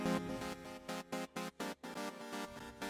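Synth track built on the Ace synth with delay and EQ, playing a rhythmic pattern of bright, rich chord stabs separated by short gaps, with an echoing tail.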